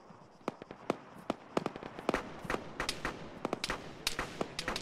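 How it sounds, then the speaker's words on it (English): Sharp, scattered cracks of incoming tracer rounds in Arma, arriving from a distance east-northeast of a town, irregular snaps and pops at varied loudness over several seconds. "you had some incoming tracer fire from somewhere east-northeast of the town"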